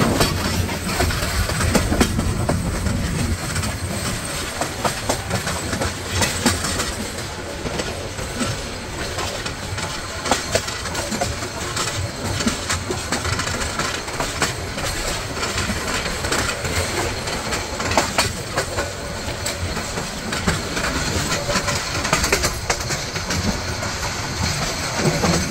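Paharika Express rolling along a winding hill railway between Chittagong and Sylhet, a continuous loud rumble with wheel clatter and rattling carriages heard from on board, steady throughout with no voices.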